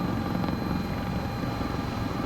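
Helicopter in Microsoft Flight Simulator 2024, a CowanSim model, descending toward an airport with its gear down; a steady, loud rotor and turbine drone runs without a break and with no talk.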